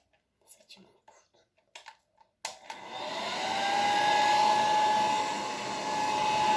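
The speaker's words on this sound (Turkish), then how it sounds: "Şimdi saçımı kurutacağız." A hair dryer starts up after a few soft rustles and runs steadily and loudly, blowing while drying freshly washed hair at home, its pitch wavering slightly as it moves.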